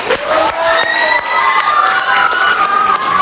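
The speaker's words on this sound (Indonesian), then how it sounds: "Tepuk tangan yang meriah tuh." Loud classroom crowd of children cheering and shouting with scattered clapping, celebrating the winning group, steady and close throughout.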